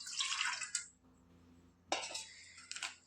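Water is poured into a bowl to make bonda batter, two close splashing bursts separated by a short quiet gap, fairly faint, with no voices.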